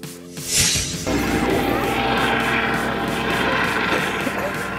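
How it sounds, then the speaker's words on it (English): A helicopter's rotor thrum and turbine whine fill the scene, loud and steady, with a faint voice at the start. "Police helicopter."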